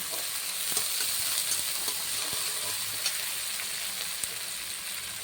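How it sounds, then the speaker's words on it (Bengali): Chopped onion and ginger fry in a pan with a constant close sizzle and hiss, dotted with occasional small pops and stirring clicks, steady throughout with no voices. "এবার দেবো আমি পেঁয়াজ কুচি দেবো আদা কুচি আদা কুচিগুলো কিছু ভাজা ভাজা করে"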